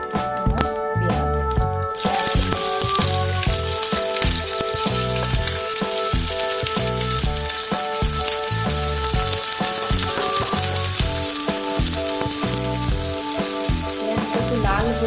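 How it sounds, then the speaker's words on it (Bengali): Onions fry in hot oil in a pan, a loud, close, continuous sizzle with steady crackle and occasional stirring, overlaid by background music. "পেঁয়াজটা লাল লাল করে ভেজে নিয়েছি"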